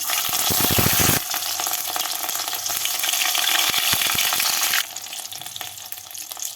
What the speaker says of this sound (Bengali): আদা আর কাঁচা লঙ্কা বাটাটাকে তেলের মধ্যে একটু ভেজে নেব